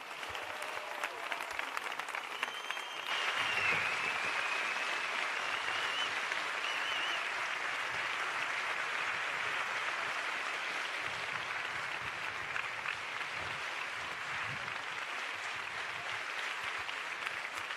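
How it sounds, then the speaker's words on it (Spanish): A crowd at a political rally with Yolanda Díaz in Sevilla breaks into long, sustained applause, dense and even, rising after the first few seconds and holding steady throughout. "yo siento interrumpir los aplausos que sin duda se merecen interminables"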